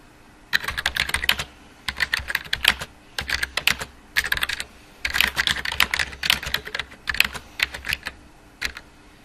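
Someone types a full sentence on a computer keyboard: close, crisp key clicks in rapid bursts separated by short pauses between words, with occasional heavier strokes, and no talking.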